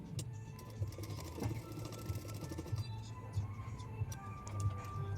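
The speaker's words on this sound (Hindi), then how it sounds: "देखो मैं किस तरह से सिलाई कर रही हूँ, आप लोग भी इसी तरह से सिलाई करना" A sewing machine runs in a steady close whir with faint ticking, stitching the side seam of a collar-neck kurti, the hum continuing alone throughout.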